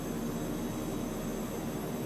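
A jet aircraft engine in the SimplePlanes 2 video game gives a steady, dense roar with a broad, unbroken rush of noise throughout.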